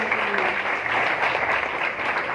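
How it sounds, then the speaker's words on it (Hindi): A church congregation at Easter prayer in Lahore, Pakistan, claps hands loudly together, a dense, continuous burst of applause with no pauses. "दोनों हाथों को मिलाकर जोरदार तालियां बजाएंगे"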